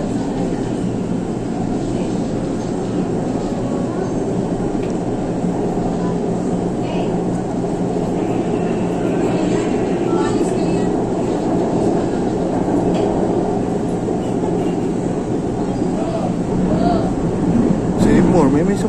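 A passenger rail train heading toward J. Ruiz station keeps up a loud, continuous rumble and rattle the whole time, with people talking faintly under the noise.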